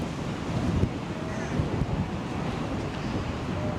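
Surf and wind on Clearwater Beach, Florida, a steady broadband wash of breaking waves with gusts buffeting the microphone, continuous and fairly loud throughout.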